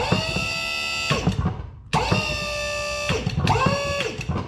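Black powder pressed into a rocket tube with a motor-driven press, a loud close whine with a steady pitch and rattling bursts, running twice with a brief stop between, no talk over it.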